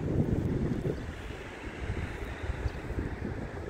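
Spring wind blows in gusty rushes with rain on a mid-April day, a steady low roaring buffet that swells and eases faintly without a break.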